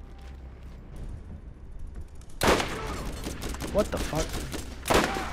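A rocket-firing gun in the video game Borderlands fires, giving two sharp, loud blasts with bursts of crackle between them after a quieter stretch. Someone speaks over the shots.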